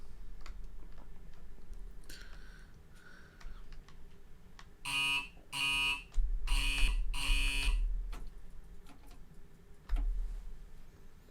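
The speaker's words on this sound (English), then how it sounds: "I like the signal buzzer on the IETs, it sounds very angry." A Class 802 IET train's cab signal buzzer in Train Simulator, four harsh, even buzzing bursts close together over a low cab hum, with fainter tones just before.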